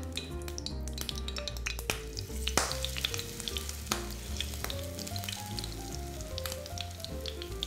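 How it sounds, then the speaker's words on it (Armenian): Vegetable empanada fritters fry in a pan, a close, continuous crackling sizzle with dense spitting pops and a brief louder burst, all under a low steady musical backing, no talking. "տապակում և հանում ենք անձեռոցիկի վրա"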